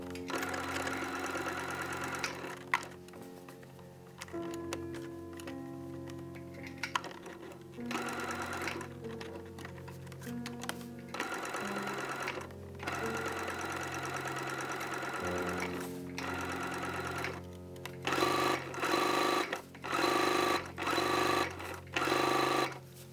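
Sewing machine stitching the back pieces of a winter coat together, with rhythmic motor runs of varying length broken by short pauses and several quick bursts toward the end.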